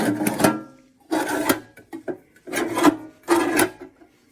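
Four bursts of rough metallic scraping as a Kobalt mini toolbox drawer grinds along its runners sliding in and out, with short pauses between.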